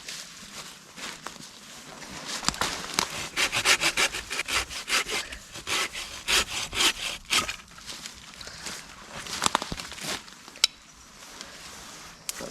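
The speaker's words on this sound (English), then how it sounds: "do you want to cut off that branch there?" A damp tree branch being sawn outdoors in winter: loud, close, rhythmic rasping back-and-forth strokes of a hand saw through wet wood, steady for several seconds and then slowing, with little else audible.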